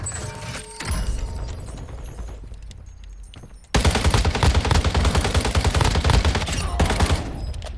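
Gunfire in the mobile shooter game Warzone Mobile comes first as scattered shots and mechanical clicks, then as a loud, dense rapid burst of automatic fire lasting several seconds, with no voices.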